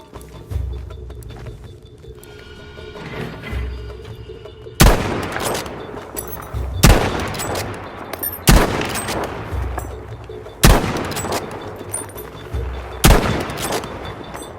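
Scoped rifle shots ring out in Battlefield 5 practice mode, five loud, sharp reports spaced about two seconds apart, each trailing into a rumbling echo over a low ambient battlefield bed.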